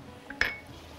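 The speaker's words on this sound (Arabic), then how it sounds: "نقلب الرز بتاعنا" Metal spoon knocking against a pot while stirring rice, one light tap then a sharp ringing clink, alone in a quiet kitchen.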